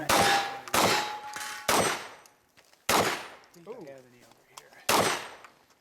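A shotgun fires at targets during an action side match, with five loud, sharp blasts spaced about a second apart, each followed by ringing metallic clangs from hit targets, and a voice briefly heard between shots.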